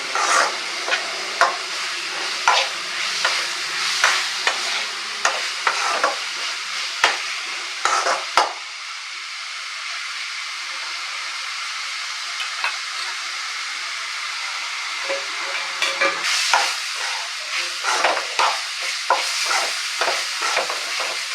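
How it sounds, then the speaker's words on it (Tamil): Ginger garlic paste sizzles in a pan as a spoon stirs and scrapes in repeated sharp strokes over a steady frying hiss, close up and without speech. "இப்போ இஞ்சி பூண்டு விழுது நல்லா வதங்கிடுச்சு"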